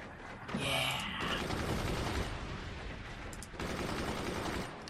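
Rapid gunfire and bursts of automatic shooting from the Forts multiplayer strategy game, loud and dense, running almost continuously with a brief dip partway through and no voices over it.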